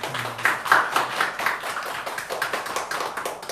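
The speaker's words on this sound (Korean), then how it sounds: "우리 박수로 감사합니다" A church congregation clapping in thanks near the end of a service, a moderate, fairly quiet patter of scattered hands with some uneven taps, fading a little toward the end.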